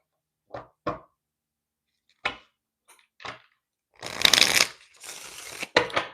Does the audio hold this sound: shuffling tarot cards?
yes